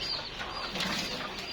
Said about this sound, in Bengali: এদিকে কবুতর আছে,